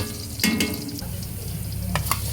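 Garlic hits hot cooking oil in a pan and sizzles steadily, with a few clinks and scrapes from stirring over the close, continuous frying.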